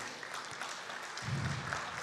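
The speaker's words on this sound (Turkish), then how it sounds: "alkışlarınızla sahneye davet ediyorum" Audience applause at a ceremony inviting an official on stage, faint and distant, a soft patter of clapping that swells slightly midway with a low rumble.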